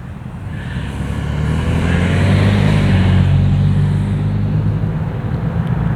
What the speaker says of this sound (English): Oop, car coming.